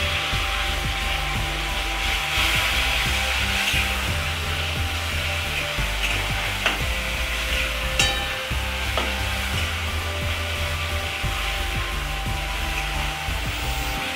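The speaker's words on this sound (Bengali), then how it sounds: "এবার পেঁয়াজ বাটাটা দিয়ে দিচ্ছি, দুটো বড় পেঁয়াজ বেটে নিয়েছিলাম।" Paste made from two large ground onions fries in a pan with a constant, even hiss and faint scraping, steady for the whole stretch beneath low background music.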